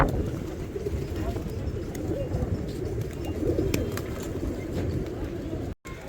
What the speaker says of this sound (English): this is where the pigeons are